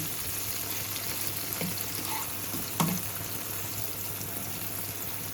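Mushrooms sizzle on a hot grill with a steady, even frying hiss, broken by a couple of brief pops and spatters, heard up close with no talking.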